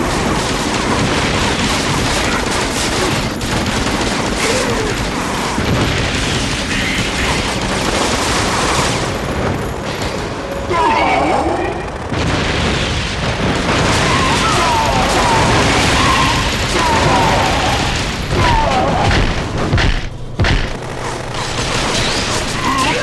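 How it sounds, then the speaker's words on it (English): Dense bursts of gunfire and explosions fill the action of the Gungrave: Overdose video game, with rapid machine-gun fusillades and booming blasts crowding together loudly and almost without pause, dry and without reverb. "the only thing you're going to be hearing are grunts, explosions, and gunfire"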